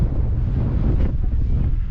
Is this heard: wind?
yes